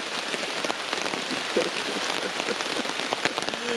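Heavy rain drums steadily on a tarp and tent at an overnight backpacking camp, a dense close patter of drops with no voices.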